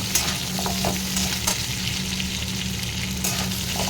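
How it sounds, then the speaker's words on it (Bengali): Potatoes fry lightly in a wok with stone-ground spice paste in oil previously used for frying fish, giving a steady close sizzle with occasional soft stirring scrapes and no talk. "আর আমি আলুগুলো দিয়ে হালকা একটু ভেজে নেব"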